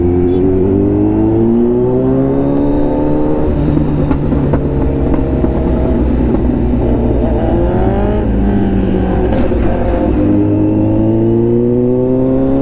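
Kawasaki Z900 motorcycle with a very loud aftermarket exhaust revving hard, rising and falling engine tones sweeping up and down over a steady rumble, close and dominant throughout the ride.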